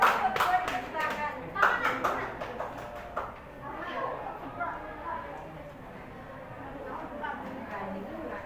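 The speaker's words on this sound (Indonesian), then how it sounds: "beri aplaus kepada kelompok yang 6" Classroom applause for the sixth student group in a practice-teaching session: a short burst of clapping from several people that thins out quickly, followed by murmuring voices and a speaker beginning to talk.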